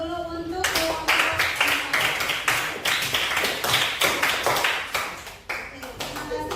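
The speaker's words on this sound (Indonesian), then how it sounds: "kita berikan aplaus dulu untuk kelompok 4" A classroom group claps for group 4, a quick burst of steady, dense applause that lasts several seconds and then fades.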